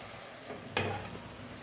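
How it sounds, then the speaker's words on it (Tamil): Mutton drops into frying masala in a pan, setting off a sudden loud sizzling burst that then settles into a steady, close hiss of frying. "நான் அதனால் இப்போ போட்டுறேன்"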